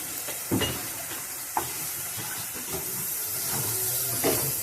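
Ground coriander, cumin, chili powder and turmeric frying in a pan for a prawn kalia, a soft continuous sizzle with a few stirring scrapes, steady and close throughout.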